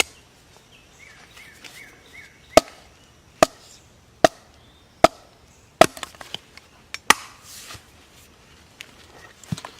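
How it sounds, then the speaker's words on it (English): A Raptor machete chops through dry, pithy wood in sharp, separate strikes, about ten spread over several seconds, close and crisp, with faint birdsong in the background. "It cuts right through. As this is dry wood, it would be perfect for starting a fire."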